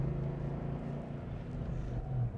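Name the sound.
muscle car exhaust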